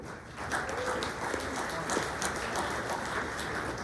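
Audience applause at a chamber of commerce candidates forum carries on steadily as a crowd of hands claps at moderate volume, with faint voices in the background.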